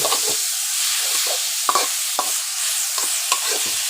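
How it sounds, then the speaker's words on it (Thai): Minced pork being stir-fried for Thai pad kra pao with little oil, a loud continuous sizzle from the wok punctuated by several sharp scraping strokes of the spatula. "พี่ปูจะรวนหมูให้สุกก่อนเนาะ"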